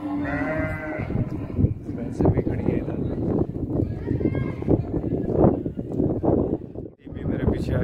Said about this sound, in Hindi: भेड़े भी खड़ी हैं।